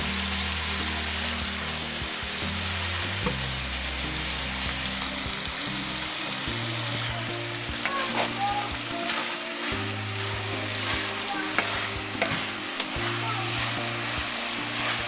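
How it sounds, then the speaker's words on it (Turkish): Onions, peppers and meat fry in oil on a saj pan over a village wood fire, a loud continuous sizzle with scraping and clanking of the stirring utensil against the metal throughout. "soğanımızı, biberimizi, etimizi iyice harmanlayarak bu şekilde karıştırıyoruz"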